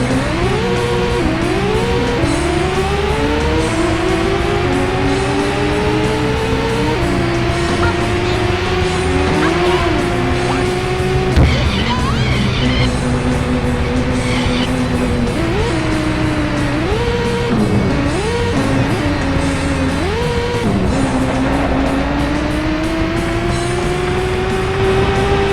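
Racing buggy engines in the Dreamcast game Buggy Heat, loud whining motors rising and falling in pitch through repeated gear shifts and revs, continuous over a backing soundtrack.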